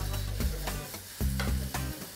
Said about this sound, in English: They are actually frying noodles with eggs and sugar and chocolate and strawberry.